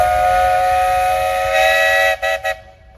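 A steam tractor's whistle blows in a threshing show parade, a loud sustained tonal blast that ends in two short toots.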